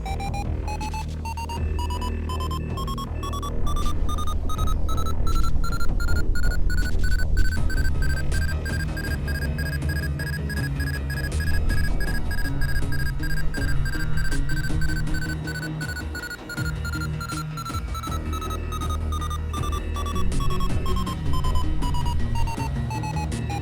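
A proximity alert alarm in the space game Ostranauts sounds continuously as a loud, rapidly pulsing electronic tone with a slowly rising and falling pitch, repeating without a break over a low rumbling background.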